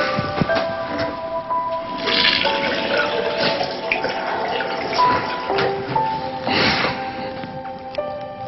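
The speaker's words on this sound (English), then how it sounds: "To hear the water running meant a lot to me." Water runs steadily from a tap in a home bathroom, a continuous close hiss and splash with brief surges and no voices.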